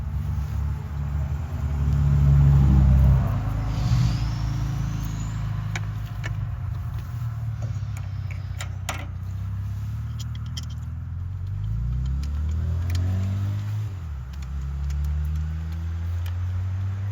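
A Chevy truck engine idles steadily nearby, a low continuous rumble that swells briefly early on, with scattered clicks and light handling noises over it.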